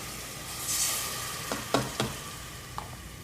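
Freeze-dried onions toasting in a pan give a steady, bright sizzle, broken by a few soft clinks and scrapes of stirring, with no talking.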